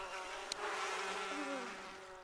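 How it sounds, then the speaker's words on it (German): Bees buzz in The Sims 4 garden scene, a steady close insect drone with wavering tones and a brief click partway through, no talk. "Ach, Bienen."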